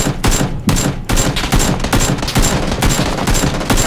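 Rapid automatic gunfire rattles in PUBG, loud and close, in tight repeated bursts separated by brief pauses, with no talking over it.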